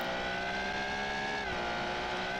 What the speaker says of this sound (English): High revving, weird engine sound, and oh, it likes to hop a little bit on the strip.